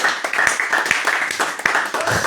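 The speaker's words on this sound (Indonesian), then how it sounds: "Tepuk tangan." An audience at a talk claps with a lively, crowded patter of hands and occasional sharper slaps, close and fairly loud throughout.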